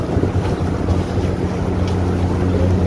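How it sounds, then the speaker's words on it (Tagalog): Strong wind roars steadily across the open outside deck of a boat approaching the port of Bacolod, buffeting the microphone over a low engine rumble, with no voices. "Lakas ng hangin dito sa labas."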